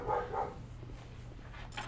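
Dogs bark twice in quick succession, muffled and fairly distant, then fall quiet over a low background hum.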